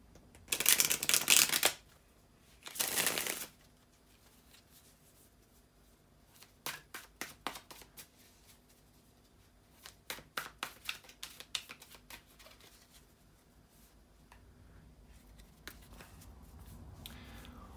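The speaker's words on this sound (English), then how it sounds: "bear with me a second, guys, to shuffle the tarot cards" Tarot cards shuffled by hand: two loud riffled bursts early on, then a long run of crisp, quick card flicks and taps, close and alone with no talking.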